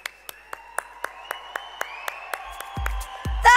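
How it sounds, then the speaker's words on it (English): Scattered claps from a conference audience at a robotics event, steady and evenly spaced, building toward the end, where a couple of loud low thumps land. "More of a wow, whistles, claps, applause."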